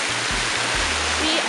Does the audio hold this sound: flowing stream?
yes